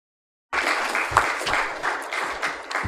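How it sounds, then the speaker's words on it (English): Audience applause for a speaker at a tech-for-sustainability panel: warm, continuous clapping from a sizable crowd that starts abruptly after a moment of silence and holds at an even level. "could we have a round of applause for him, please?"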